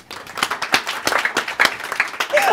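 Hands clapping in a burst of applause inside an office, in a comedy skit, with uneven sharp claps close by and some voices mixed in.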